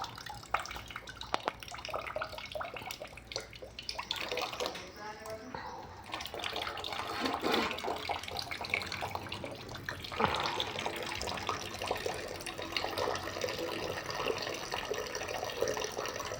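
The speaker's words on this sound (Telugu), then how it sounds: "ఈ విధంగా వాటర్ అంతా వెళ్ళిపోతుంది" Water runs and gurgles as it drains away, a continuous trickling, splashing flow at close range with some faint background noise.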